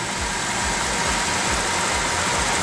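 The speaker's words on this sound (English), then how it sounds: "the big engine purring away" The big engine of an RV idling steadily, loud and close with the engine bay open, a continuous rumbling drone with a regular low pulse and a broad hiss over it, with no voices.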